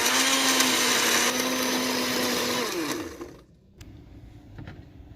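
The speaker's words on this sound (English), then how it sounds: "So let's blend." A blender whirs loud and steady as it purées beans with ogiri for a Nigerian red bean porridge, the motor winding down after about three seconds, leaving quieter kitchen clatter.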